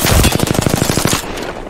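Rapid automatic gunfire in Apex Legends rattles off as a fast, even string of about a dozen loud, close shots, then stops abruptly.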